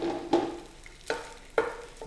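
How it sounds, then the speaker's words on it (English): Garlic sizzles and hisses steadily in a hot pan, broken by a few sharp stirring clatters as it is moved around, with no talking. "See, you hear that starting to sizzle."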